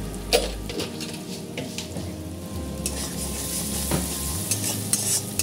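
Spice masala cooking in oil for a katla fish curry, a continuous sizzle with intermittent stirring scrapes and light pan knocks, no talk.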